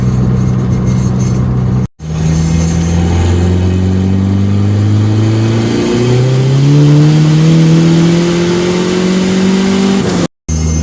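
A Ford Probe GT fitted with an HX35 turbo makes a loud full-throttle pull, the engine rising in pitch through a gear, easing briefly at a shift, then climbing again before cutting out.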